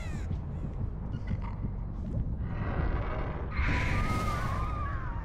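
Crow caws from the Artist's bird in the Dead by Daylight video game: a few short, scratchy calls early on, then a louder, drawn-out harsh cawing over steady game ambience.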